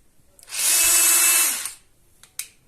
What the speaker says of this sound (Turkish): Yani akülü vidalama değil de darbeli matkap.